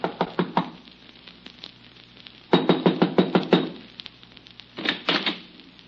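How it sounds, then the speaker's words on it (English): A fist raps on the wooden door of a shack as a radio drama sound effect, three separate bursts of rapid knocks, close and sharp, with quiet pauses between them. "there was nothing for me to do except knock"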